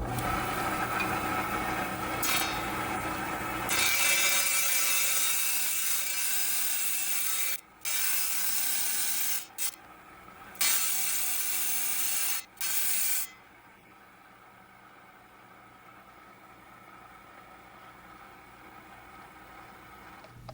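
A saw cutting rough labradorite stone gives a steady, bright grinding hiss in several long passes broken by short pauses, then stops and leaves near silence, with no voices.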